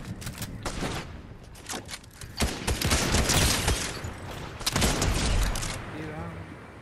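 Gunfire in Fortnite comes in several loud bursts of rapid shots with quieter gaps between them, and voices talk beneath and between the volleys.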